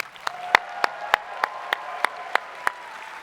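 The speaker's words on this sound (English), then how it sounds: "Give you guys one more round of applause." At a convention closing ceremony, an audience applauds in a hall, steady clapping with a few sharp, louder claps standing out at regular intervals above the broad crowd sound.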